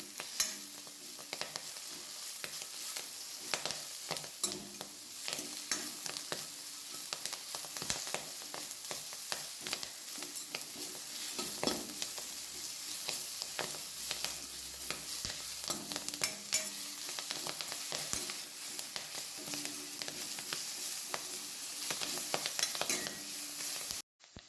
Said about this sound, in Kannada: ಇದನ್ನೀಗ ಚೆನ್ನಾಗಿ ಬಾಡಿಸಿಕೊಳ್ಳುವ.